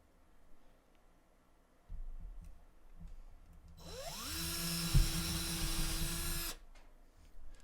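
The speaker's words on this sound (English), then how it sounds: "And then you're just going to take your drill." A power drill bores into a LEGO brick backed by a block of wood, whining up to a steady high pitch for a couple of seconds before stopping, close and fairly loud.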